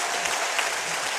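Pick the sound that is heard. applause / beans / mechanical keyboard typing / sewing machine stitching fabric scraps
applause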